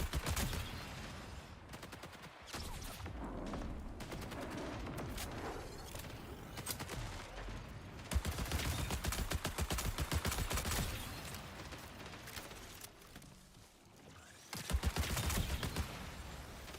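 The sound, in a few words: gunshots in the video game Marathon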